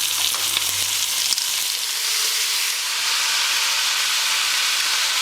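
A kilo of washed green beans hits a hot pressure cooker, setting off a loud, broad sizzle and steamy hiss that stays steady throughout, with a few clatters near the start.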